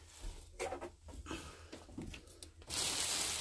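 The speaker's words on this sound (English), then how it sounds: "And then we're going to take our scissors." Scissors cut the ribbon on an Easter basket: a handful of short, crisp rustling snips come close and moderately loud, then a steady loud rushing noise takes over at the end.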